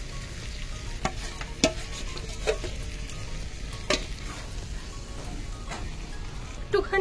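Chicken chaap sizzles steadily in a pan of hot oil as extra gravy goes in, with occasional sharp clinks of a spatula stirring against the pan. A voice speaks briefly over the frying.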